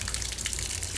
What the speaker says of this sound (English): So I've got the water busting through.